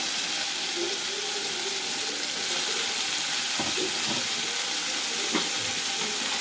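Brinjal pieces frying in a pan for a brinjal-tomato curry, giving a steady broadband sizzle throughout with a few brief stirring or clinking touches near the end.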